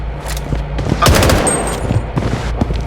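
Rapid gunfire bursts from the shooter game Blood Strike, loud and close, with a sharp boom near the middle and steady crackling shots throughout.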